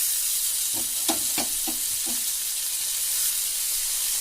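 Steady sizzle of a hot pan as grated raw mango goes in for Telugu-style mango rice (pulihora), with a few soft stirring knocks near the start over a constant hiss.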